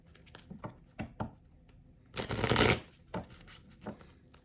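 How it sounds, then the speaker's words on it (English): Tarot cards being shuffled: a few soft riffling flicks, then a longer, louder burst of shuffling, followed by a couple more light taps; close and fairly quiet. "Let's do one more shuffle."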